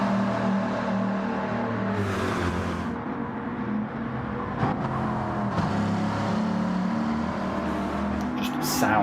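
A powerful Bugatti Veyron engine roars steadily with shifting revs in a racing video game while a voice talks over it.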